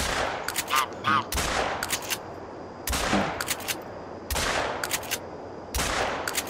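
Shotgun blasts ring out at geese in the hunting video game theHunter: Call of the Wild, during a duck hunt. Several sharp, loud shots come in quick clusters, each followed by a short reverberant tail.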